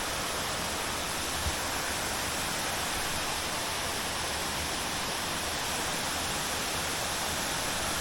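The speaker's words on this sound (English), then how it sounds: "Water's flowing good." Steady, broad rushing water pours continuously over a spillway, loud and close, like a torrent spilling over a drop, with no voices.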